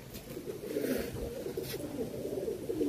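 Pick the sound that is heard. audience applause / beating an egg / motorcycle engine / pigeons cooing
pigeons cooing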